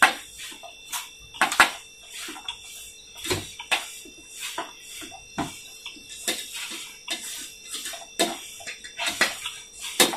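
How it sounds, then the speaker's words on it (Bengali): Samosa dough of flour kneaded by hand as small splashes of water are added, giving rhythmic, close, wet slapping and squelching sounds in irregular repeated bursts. "এখানে আমি অল্প সামান্য জল দিয়ে দিব"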